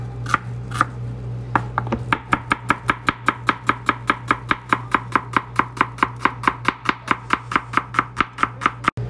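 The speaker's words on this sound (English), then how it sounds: "We're gonna I like to cut that onion real fine." Knife chopping onion finely on a board, a fast, steady run of crisp, evenly spaced cuts that starts after a few scattered taps and continues close and loud to the end, with a low steady hum underneath.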